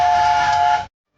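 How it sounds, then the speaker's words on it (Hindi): A train whistle at a station gives one sustained, loud, steady blast that cuts off abruptly, with no talking. "मैडम, ट्रेन की आखिरी सीटी बज गई है।"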